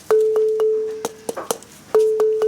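Wooden bars of a Malian balafon are struck over a calabash resonator, giving bright ringing tones with sustained pitch, a run of evenly spaced notes, loud and close, with a few quicker strikes in the middle.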